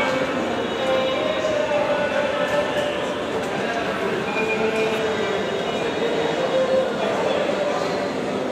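A Lucknow Metro train at Transport Nagar station gives a loud, steady rolling hum with a whining motor tone and wheel squeal rising and falling, continuous across the whole stretch while a voice talks over it.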